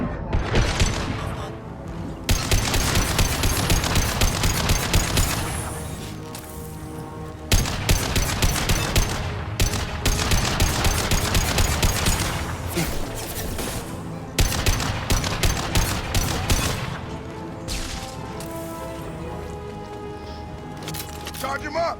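Gunfire rattles in the sci-fi shooter Mass Effect 2 Legendary Edition as repeated automatic bursts and sharp cracks, loud and close, broken by short pauses, with voices talking over the shooting in places.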